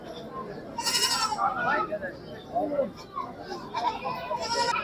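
A mother goat and her kids bleat at the Talgachhi goat market in Sirajganj, several sharp, wavering cries rising repeatedly over crowd chatter and nearby talk.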